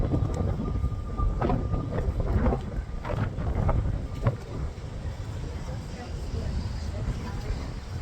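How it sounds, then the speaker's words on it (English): Wind blowing outdoors on a wet day, rumbling and buffeting against the microphone as a continuous low roar, with a few brief voice-like sounds early on. "Actually, I'm starting to feel that wind now."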